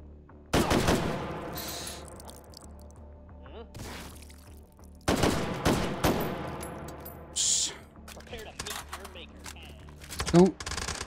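Assault rifle gunfire in Hot Dogs, Horseshoes & Hand Grenades on an abandoned port map, a few loud sharp bursts of shots separated by pauses, with someone talking between them.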